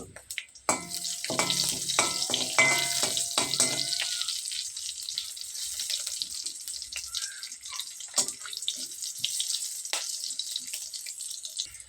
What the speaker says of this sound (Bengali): তেলে শুকনো মরিচ, এলাচ, তেজপাতা, গোটা জিরে, কাঁচামরিচ দিয়ে দেব